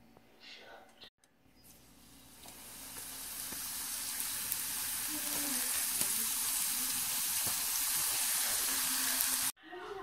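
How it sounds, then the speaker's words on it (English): Wonton wrapper strips fry in hot oil, giving a bright, steady sizzle that swells over the first few seconds and holds strong before cutting off abruptly, with faint voices in the background. "I like to cut them in a strip and fry them up like a little chip"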